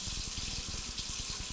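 Hot water runs steadily from a kitchen sink tap, a continuous close splashing hiss with small irregular gurgles, alone without talk.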